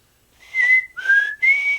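A person whistles an imitation of the black-capped chickadee's call: three clear, pure, loud notes, the middle one slightly lower, with short gaps between them and no other sound.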